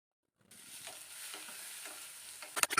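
Onions sauté with salt in a pan: after a moment of silence a soft, continuous sizzle starts and holds, then a few sharp scrapes of stirring come close at the end.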